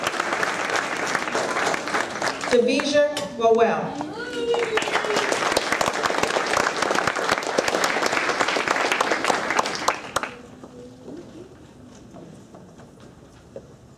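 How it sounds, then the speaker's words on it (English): Audience clapping for each student at an elementary school 6th grade promotion ceremony, loud sustained applause with a few whoops while a name is read over it, then fading to quiet room noise near the end. "And you can clap for each student."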